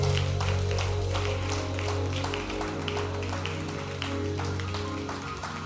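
A church congregation claps in a sustained rhythmic patter over a steady low hum of music or organ, moderately loud throughout with no clear talk.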